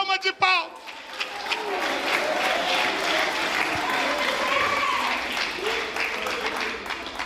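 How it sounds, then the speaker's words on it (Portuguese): A church congregation breaks into sustained applause and clapping that fills the room steadily for several seconds after a brief vocal moment at the start, with crowd noise underneath. "Se você crê, dá uma salva de palmas."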